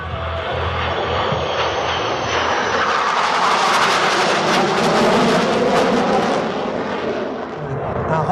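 French Navy aircraft roar past at the La Ferté-Alais air show in June 2019, a loud engine drone that swells to a peak mid-pass and then fades, with an announcer's voice underneath.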